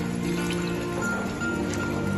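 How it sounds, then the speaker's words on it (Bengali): Taro leaves (kochu shak) being washed in water, with a steady close wash of trickling, dripping and gentle sloshing that runs throughout. "আমরা একটু ভালো করে ধুয়ে নিচ্ছি।"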